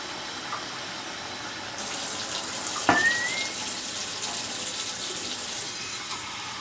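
Hot water is poured into a pot of cooking fava beans for gulban, a brief splashing gush over a steady background hiss, fairly faint and heard alone.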